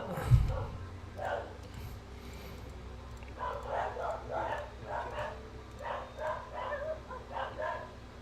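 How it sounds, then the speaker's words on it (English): Several dogs bark repeatedly in short bursts through the clip, moderately loud and slightly distant, with a low hum underneath. "So there our dogs are really, getting nasty these days when it comes to people."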